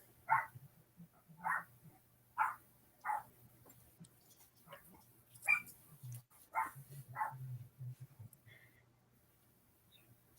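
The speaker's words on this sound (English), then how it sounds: "Now my dogs are barking Robin." Dogs bark in a steady series of sharp, evenly spaced woofs at a moderate distance indoors, about a dozen barks over several seconds with a low hum underneath and little talk.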